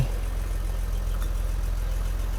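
A Mercedes W116 280SEL engine, freshly repaired fuel distributor, idles steadily and close by with an even low rumble and no voices.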